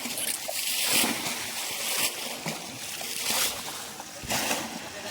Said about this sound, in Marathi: एक एक बाल्टी भरून टाकत आहे